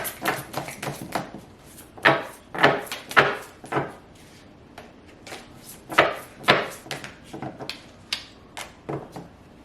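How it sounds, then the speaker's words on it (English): Slippery tarot cards are slammed and slapped onto a table in a quick, irregular series of sharp, close-up smacks, some in rapid clusters, with no talking. "I feel bad like slamming them on the table,"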